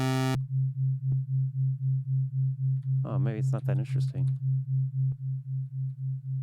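A steady pure sine tone played on an M8 Tracker, a handheld music tracker, holds one low pitch almost the whole time with a slight pulsing swell; someone speaks briefly over it midway.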